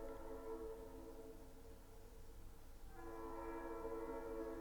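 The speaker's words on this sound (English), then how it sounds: "Here's the train." A train passes at a distance, heard as a steady, faint, sustained horn-like tone that dips briefly and then returns, with no voices.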